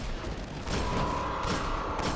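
Bursts of rapid gunfire from the video game Destiny, fighting a walker's legs in the Devil's Lair strike, crackle in a dense, continuous volley with a few sharper spikes, fairly loud and with no talk over it.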